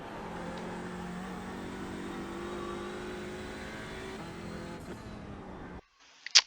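An Audi TCR touring car in the iRacing sim at the Nürburgring holds a steady engine note, then the throttle is fully lifted under braking and the sound cuts away, with a brief faint noise at the end.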